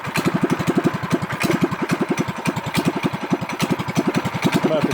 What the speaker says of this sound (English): I have to run a partial choke now with more airflow.